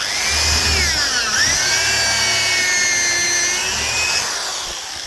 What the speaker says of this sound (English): we're going to drill a hole next to it